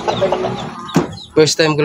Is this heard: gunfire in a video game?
no